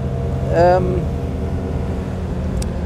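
A 1938 Mercedes 320 Cabriolet engine runs with one spark plug misfiring, giving a steady, close low rumble throughout while someone speaks briefly over it.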